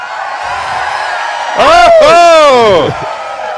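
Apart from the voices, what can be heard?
group of people cheering and whooping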